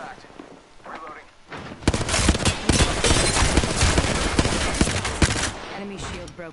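Gunfire in a video game, a sustained burst of rapid automatic shots crackling densely for several seconds after a few quieter sounds, with game voice lines faintly mixed in.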